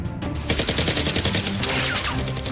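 Rapid toy gunfire from Nerf blasters in a mock battle through an abandoned neighborhood, a dense, continuous crackle of bursts and clattering shots filling the whole moment without pause.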